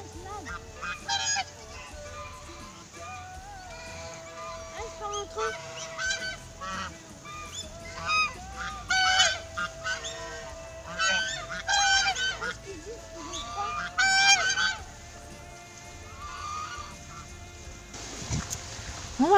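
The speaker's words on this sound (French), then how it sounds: "Les oies." Geese honking repeatedly at a zoo-like wildlife park, loud nasal calls coming in irregular bursts and overlapping one another across a busy outdoor background.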